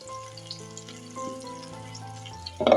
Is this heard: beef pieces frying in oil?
yes